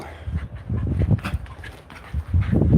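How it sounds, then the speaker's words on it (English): A dog whimpers and whines in short uneven bursts close by indoors, with snuffling and restless noises between the cries. "you are a noisy dog."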